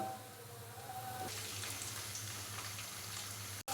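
Ginger and garlic paste frying in a pan with lightly browned onions for a dahi aloo masala: a steady, soft sizzle hissing throughout, with one sharp tap near the end.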